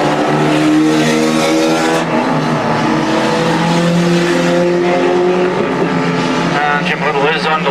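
Stock cars racing at Crimond in 2002, engines roaring loud and continuous as cars pass close, with rising and falling pitch from several vehicles and a commentator's voice faintly under the noise.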